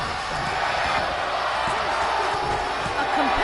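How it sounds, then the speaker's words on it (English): Steady, dense crowd roar from a wrestling video game arena, a continuous wash of cheering noise that holds at a fairly constant loudness for the whole stretch. "And listen to the crowd. This is awesome."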